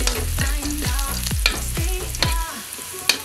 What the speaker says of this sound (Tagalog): Papulahin natin yung bawang at sibuyas